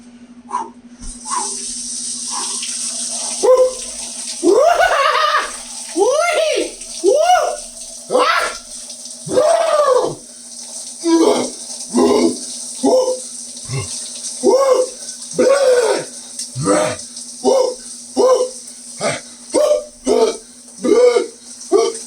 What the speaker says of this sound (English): So cold showers it is.